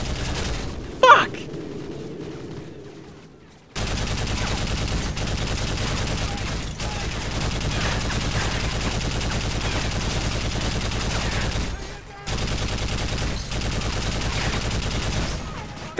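Sustained gunfire from Call of Duty: Modern Warfare 3 rattles on almost without pause after a quiet opening few seconds, with dense overlapping shots and only a brief dip late on.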